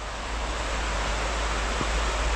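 A river rushes steadily beside a slippery forest slope, giving a continuous, loud broadband roar with no talk over it.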